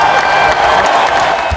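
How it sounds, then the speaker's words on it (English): Short burst of crowd applause with a few whoops at an achievers' celebration, steady and fairly loud across the whole moment. "Give her a big Newton round of applause."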